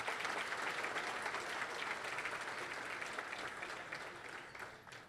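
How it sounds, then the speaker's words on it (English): A large audience at an economic forecast event applauds its sponsors, a broad wash of steady clapping that stays even and slowly fades toward the end, distant and without voices. "Can we give all of our sponsors a huge round of applause?"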